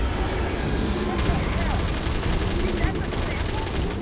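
Sustained video game gunfire in Starfield, dense rapid bursts of shots that run nonstop under a voice calling out.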